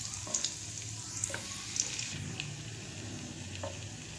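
Chopped garlic fries in a pan until light brown for gola kabab manchurian, giving a soft, steady sizzle with a few faint clinks and stirring sounds. No voices are heard.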